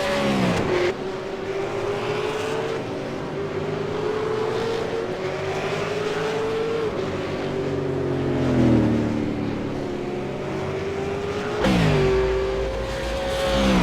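V8 Supercar racing engines roar in an iRacing race at Circuit Gilles Villeneuve, a loud, sustained scream rising and falling through gear changes as the car pushes down a straight into a chicane.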